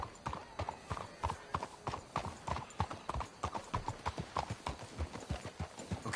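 Horse hooves clip-clop in a steady, even rhythm throughout, close and fairly loud, like horses walking at a relaxed pace, in the video game Red Dead Redemption 2.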